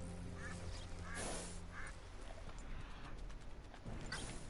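A duck quacks in Red Dead Redemption 2, several short nasal calls spread through a dense wash of outdoor game ambience.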